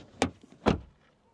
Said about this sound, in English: door closing sound is solid